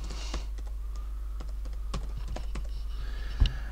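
Keys clack on a computer keyboard as text is entered into a blank document in a text editor, an uneven run of close, crisp taps over a steady low hum, with no speech.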